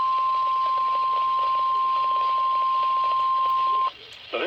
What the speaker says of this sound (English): This has been a test of the NOAA weather radio tone and same alert systems.